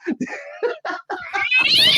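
A cat meows and caterwauls in a run of short, close, loud cries, rising into a drawn-out high wail at the end.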